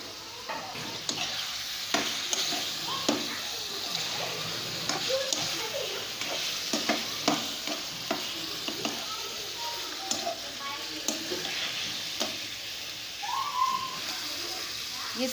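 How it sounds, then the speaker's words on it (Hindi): Chicken with ginger and garlic sizzles and fries in a pan, a steady hiss broken by regular scraping stirs throughout, heard up close with no talking. "इसको हम अच्छी तरीके से फ्राई कर लेंगे।"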